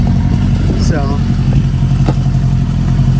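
A 1973 Harley Sportster motorcycle engine idles close by with a loud, steady, low rumbling beat, and someone speaks briefly over it.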